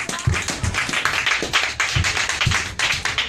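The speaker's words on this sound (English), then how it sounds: "So let's clap for group 2." A small group claps for a team during a church Bible quiz, with a steady patter of hand claps in a room, fairly close and moderately loud, with no voices over it.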